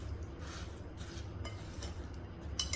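Spoon mixing butter into apple pie filling in a bowl, steady scraping and soft clinking of utensil against dish with occasional sharper clinks, close and moderately quiet with no talking.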